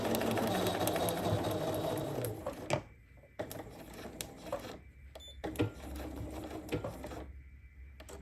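A sewing machine chain piecing a quilt block runs in fast rattling bursts, stopping and restarting several times with brief quiet gaps between runs, close and clear without talk.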